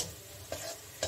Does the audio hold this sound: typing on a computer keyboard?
no